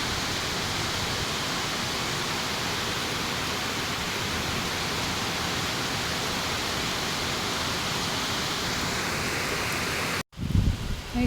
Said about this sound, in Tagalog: salamat naman at umulan dahil sa sobrang init ng panahon